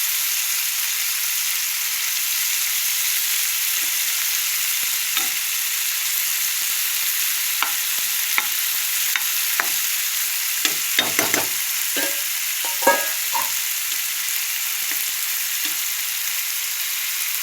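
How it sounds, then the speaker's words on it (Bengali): Prawns frying gently over low heat, with a constant soft sizzle and scattered light scraping and tapping from stirring in the pan, close and even throughout. "হালকা আঁচে হালকা করে ভাজবো, ঠিক আছে? এইভাবে ভাজলে চিংড়ি মাছগুলো কড়া হয়ে যাবে না।"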